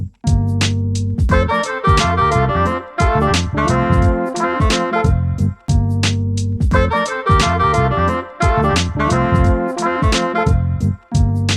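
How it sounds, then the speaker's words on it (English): Trumpet, tenor sax and trombone play a lively phrase in close harmony over a bass line and drums, loud and upfront, repeating twice. "For this example, I'm gonna use trumpet, tenor, and trombone."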